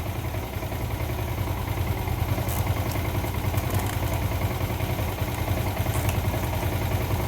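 A motorcycle engine idles steadily and loudly up close, a continuous low rumble with slight clatter while the regulator and battery are checked for an Error 46 fault.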